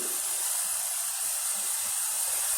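Milk coming to a boil for Quetta-style doodh patti tea, a steady soft hiss and low bubbling simmer that holds evenly throughout, close and alone.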